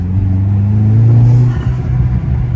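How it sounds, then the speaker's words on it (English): A Hyundai Genesis Coupe's engine revs up under acceleration, a loud close droning rise that holds, then dips and wavers as the throttle eases, with a low rumble underneath. "Getting on the gas now, I no longer have that"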